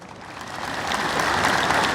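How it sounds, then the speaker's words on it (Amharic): A church congregation at an Ethiopian Orthodox sermon breaks into applause, dense clapping swelling louder over two seconds, with no voices on top. "ይምጣ የምትሉ አሁን አጨብጭቡ።"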